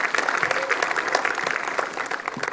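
Conference audience applauding steadily for the full stretch, a dense wash of many hands clapping at even strength with no pause.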